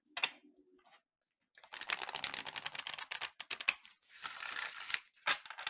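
Oracle cards being shuffled by hand, a brief soft riffle, a pause, then longer bursts of quick papery flicks and clicks, close and quiet.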